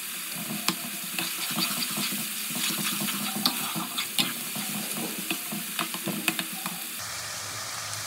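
Ginger-garlic paste hits onions frying in hot oil, giving a steady close sizzle with scattered clicks and scrapes of stirring. The sizzle drops away sharply near the end.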